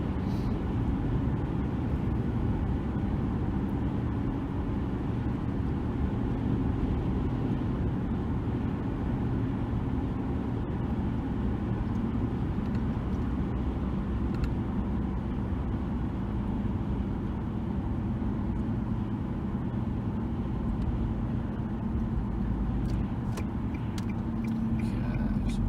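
A 2003 Nissan Altima S 2.5L driving along with steady engine and road rumble throughout, continuous and fairly loud, with no distinct braking event standing out.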